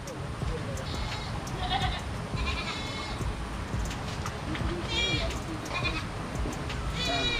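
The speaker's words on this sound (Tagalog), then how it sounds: "umiyak yung mga kambing" Goats bleat repeatedly at a rural house site during rain, several wavering calls coming in bursts over a steady hiss of rainfall.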